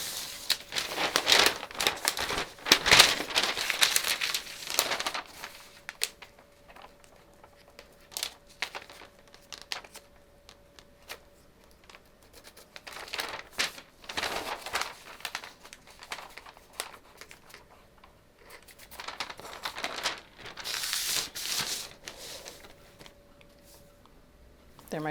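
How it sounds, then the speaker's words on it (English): Stiff pattern drafting paper being folded and creased while drafting a size 8 womenswear skirt block, giving repeated bursts of crinkling and crumpling, close and fairly loud, with quieter gaps and a low steady hum between the handling. "I'm going to fold my paper so I can find the middle of those two darts."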